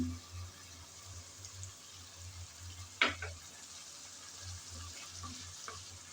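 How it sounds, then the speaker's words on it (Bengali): Shrimp and dried fish frying and being stirred in a pan while making a bhadali leaf dish: steady low sizzling throughout, with one sharp scrape of the utensil near the middle and a few lighter stirring clinks. "চিংড়ি আর শুটকি সবার আগে দিয়ে ভালোভাবে কষিয়ে নিতে হবে।"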